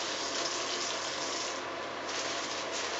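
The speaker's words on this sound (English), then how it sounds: "I'm going to use this to turn off the faucet." Steady water streaming from a sink faucet during handwashing, a continuous broadband hiss held at even loudness with no voices, running for the whole stretch without clearly cutting off.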